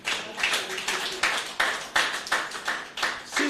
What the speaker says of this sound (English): That deserves a bigger round of applause.